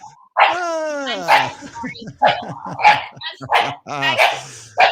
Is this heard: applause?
no